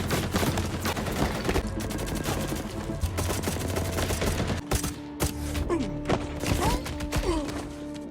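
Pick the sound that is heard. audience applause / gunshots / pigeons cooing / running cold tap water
gunshots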